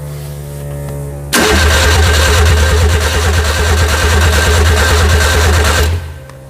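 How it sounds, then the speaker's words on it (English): Electric fuel pump in a Nissan-powered Mini switches on abruptly and runs as a loud, steady buzzing whir for several seconds, then cuts off, close up and alone. "That pump still sounds noisy, doesn't it?"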